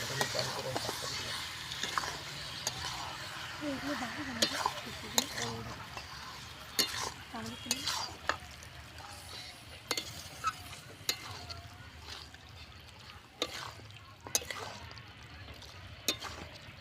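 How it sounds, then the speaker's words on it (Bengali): Chicken pieces are stir-fried in hot oil in a pan for a potato chicken curry, with a steady sizzle broken by repeated sharp scraping and clinking of a utensil against the pan, and faint speech in the background. "এর মধ্যে আমি এখন দিয়ে দিচ্ছি মাংস। তো মাংসটা দিয়ে আমি ভালো করে আবার কষিয়ে নেব।"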